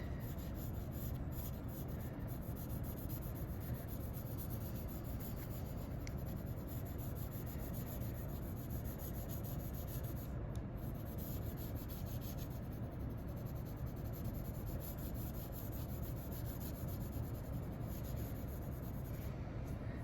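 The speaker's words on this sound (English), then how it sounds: "I'm going to trade off and get a sharper pencil and get this edge nice and even." Graphite pencil shading on paper while drawing a paper airplane, with a sharper pencil evening out an edge: a steady, close scratchy rubbing that continues for the whole stretch, with no talk.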